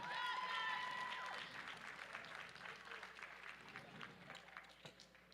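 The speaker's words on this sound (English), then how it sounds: "One more round of applause for the boys." Crowd applause and clapping in an arena at a powerlifting meet's medal announcements, steady and fairly distant, with a faint voice near the start.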